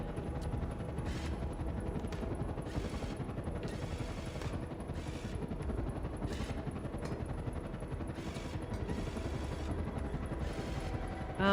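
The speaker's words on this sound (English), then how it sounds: "Sounds like there's a helicopter outside all of a sudden." A helicopter heard from outside in the space-themed escape-room video game Escape Simulator gives off a steady, fast rotor chop as a continuous low thrum, moderately loud with no voices.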